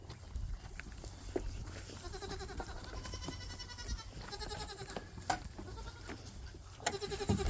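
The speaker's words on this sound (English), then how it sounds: "There's all the goats." Several goats bleat repeatedly at a farm during goat processing, overlapping wavering cries near and farther off over low rumbling and outdoor background noise.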